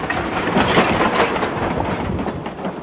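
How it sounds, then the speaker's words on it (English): The Silverton-Durango narrow-gauge railroad train, a line finished in 1882, rumbles steadily past with a loud continuous roar and wheel clatter, close and alone without speech. "the exciting Silverton-Durango narrow-gauge railroad, which was completed in 1882"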